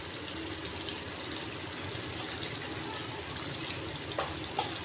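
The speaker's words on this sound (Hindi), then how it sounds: "मिक्स करने के बाद यहाँ पे मैं डालूँगी 1 कप पानी का।" Water poured from a cup into a pan of potato and cauliflower curry, a steady broadband splash and hiss at moderate level running evenly throughout with no talk.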